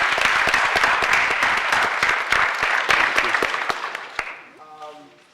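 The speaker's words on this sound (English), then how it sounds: "Can we just give them a round of applause?" An audience at a public safety committee meeting gives surgeons a round of applause, brisk clapping that tapers off over several seconds before a voice begins speaking at the close.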